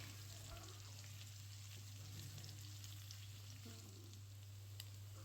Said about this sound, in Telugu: మనం వీటిని కూడా మీడియం ఫ్లేమ్లో పెట్టుకొని ఫ్రై చేసుకోవాలి